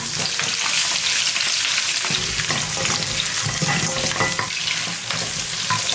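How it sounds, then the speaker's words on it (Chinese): Duck meat with ginger slices crackles loudly in hot oil, a dense continuous sizzle close up, broken by occasional scrapes and stirring knocks of the spatula in the wok, with no voices. "起锅热油爆香姜片，接着加入鸭肉炒香"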